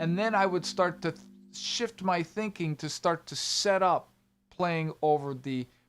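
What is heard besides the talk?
No everyday noise stands out behind the speech.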